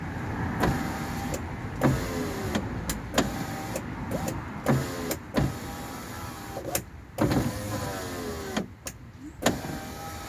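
Electric window motor in a Rover 45 door, struggling and slow, whining steadily at close range with repeated clicks and clunks as the glass moves, no voices present.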